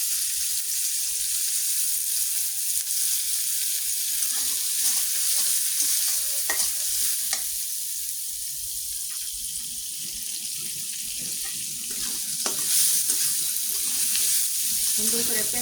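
Onion fries in oil in a pan, producing a constant bright sizzle with occasional clinks and scrapes of stirring for the whole stretch.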